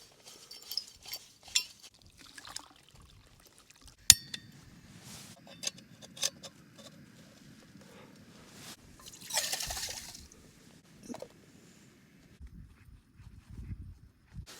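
Assembling an OEX Hero camping stove outdoors on a winter summit camp: scattered metallic clinks and clicks of parts fitting together, a low rustling rumble, then a brief gush of poured water, close and fairly quiet.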